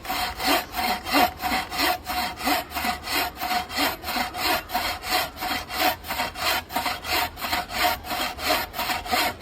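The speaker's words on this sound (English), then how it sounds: "What we're using is the buck saw." A buck saw cuts through wood for a bushcraft hammer handle. The strokes are steady and rhythmic, a close, rasping back-and-forth repeated about two per second without pause.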